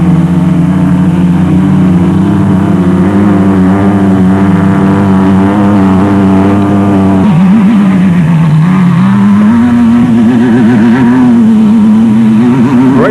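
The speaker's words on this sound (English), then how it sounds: "The conditions definitely did not favor the special vehicles, which struggled to get traction on the slippery slope." Race vehicles at the 2001 Carnival City 400 labor up a slippery hill, engines droning loudly and continuously with wavering, straining pitch as they fight for traction, near and alone without talk.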